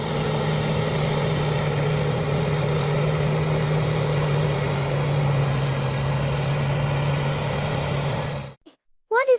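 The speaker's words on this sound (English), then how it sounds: "It's pulling a modern cultivator to clear out weeds and loosen the soil between rows of young corn plants." Green tractor pulling a modern cultivator between rows of young corn, its engine droning steadily at a constant low hum for several seconds before cutting off abruptly into silence and a short unrelated sound.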